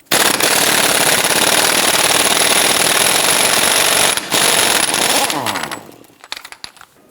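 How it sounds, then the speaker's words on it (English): An impact gun loosens and removes a 32 mm lower ball joint nut on a 1997-2006 Jeep Wrangler. It gives a loud, continuous rattling hammer for about four seconds, then a short pause and another burst that winds down to scattered clicks. "We're going to use our impact gun, loosen and remove this nut."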